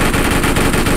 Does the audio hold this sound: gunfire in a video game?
yes